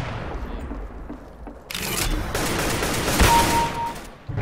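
Gunshots in the video game CS:GO, starting after a quiet moment with a sudden loud burst and continuing as sustained rapid fire and booms before tailing off.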